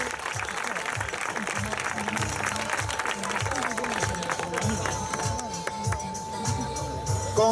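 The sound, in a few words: applause for bodybuilding contestant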